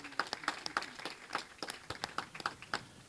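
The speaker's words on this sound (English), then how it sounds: "I almost want you to applaud yourself." Audience applause at a civic reception for the High Commissioner for Jamaica, made of distinct individual claps from a modest crowd that stay fairly light and scattered for about three seconds.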